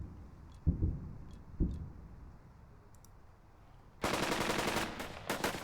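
Suppressing machine gun fire in the WWII strategy game Burden of Command, heard as a dense, loud rapid burst of shots near the end, after a couple of lone thumps over a quiet battlefield background.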